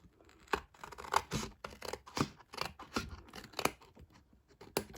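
Scissors cutting through a section of craft card for a handmade retro milk carton gift box, a close series of crisp snips and papery rasps repeating at an uneven pace, quiet and alone.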